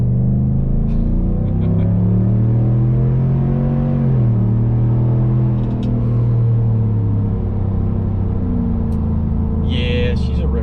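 A V8 truck engine with a Pulsar LT tune rumbles loudly and close, its pitch sweeping up and down as it accelerates and shifts gears, with a brief chirp near the end.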